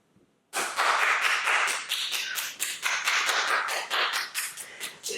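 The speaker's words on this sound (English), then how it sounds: "standing applause" Sudden loud applause from an audience, dense clapping that swells in and continues steadily for several seconds with slight rises and dips.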